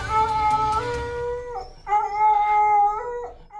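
Several dogs at the Nebraska Humane Society shelter in Omaha howl in long, wavering tones, two drawn-out howls with a brief pause between them, close and loud with no talking.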